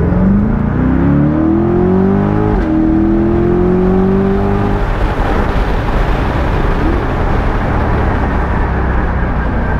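A 2021 Corvette C8 Stingray convertible engine revs hard and climbs through the gears, a loud rising whine from inside the cabin, followed by a steady roaring drone at speed.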